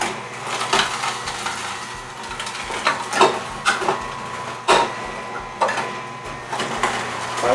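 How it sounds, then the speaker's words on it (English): An Omega NC800 juicer grinds a mix of carrots, beets, celery, kale and ginger, giving a steady mechanical churn punctuated by repeated sharp cracks and clatters as pieces are fed through, fairly close and with no talking. "So in this demonstration, I'm just juicing a variety of fruits and vegetables."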